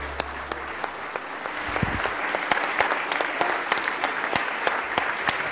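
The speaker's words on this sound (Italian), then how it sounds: "Benvenuto al maestro Pupi Avati, un applauso." Warm applause welcomes director Pupi Avati at a film festival screening in Naples, a full hall clapping steadily with crisp individual claps, near and loud, continuing throughout.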